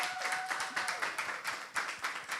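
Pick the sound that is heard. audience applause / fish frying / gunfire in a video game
audience applause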